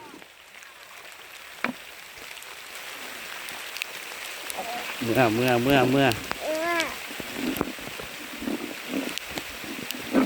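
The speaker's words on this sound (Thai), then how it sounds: "ฝนตกพี่น้อง" Light rain patters steadily on a coffee plantation during harvest, with scattered drops tapping nearby, while a person speaks briefly in the middle.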